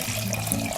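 Simple syrup poured into lemonade gives a faint, brief liquid trickle and splash.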